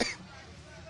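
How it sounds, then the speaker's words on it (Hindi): A short cough or throat clear, caused by pungent spice fumes at a food stall cooking Chhattisgarh dishes, comes close and brief at the start, then fades into low background murmur. "मसालों से धांस निकलती है, उसकी वजह से मुझे भी खांसी आ रही है"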